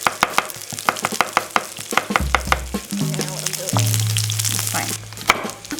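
Ingredients for salsa verde sizzle and crackle in a hot pan as they start to burn, a steady frying hiss broken by rapid pops and taps, close and fairly loud, with a low hum running underneath.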